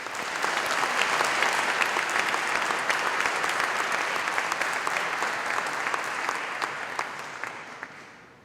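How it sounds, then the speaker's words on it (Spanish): Audience applause for candidates at a university academic debate in Guadalajara, loud, dense and sustained throughout, fading slightly at the very end. "Pues un aplauso para nuestros candidatos."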